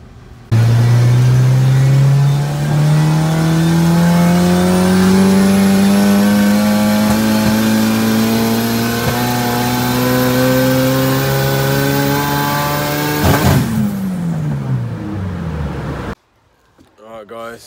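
A car engine on a mapping session revs in long rising sweeps, pitch climbing steadily for about fifteen seconds under loud, close strain before cutting off abruptly into near silence.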